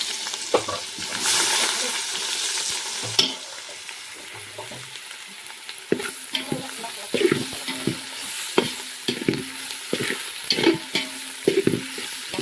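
A spoon stirs biryani frying with turmeric in a pot, scraping and clinking in irregular bursts over a soft, steady sizzle close by, without talk.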